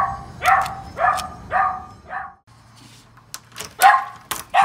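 Dogs barking indoors, a rapid run of sharp, loud barks, a short pause, then more barks and yips close by.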